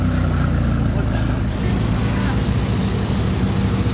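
Hypercars, including a McLaren, an Audi R8 and a Vanquish S, drive past on Monaco's casino square, a loud, continuous engine roar close by, with voices mixed into the street noise.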